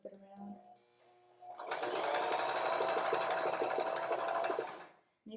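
A sewing machine stitches through fabric and elastic in one steady, fast whirring run of a few seconds, close and loud, starting and stopping abruptly after a brief quiet lead-in.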